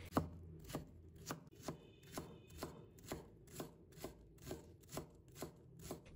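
A knife dicing half a red chili pepper on a cutting board, a steady run of about a dozen evenly spaced crisp chops, close and fairly quiet, with no voices.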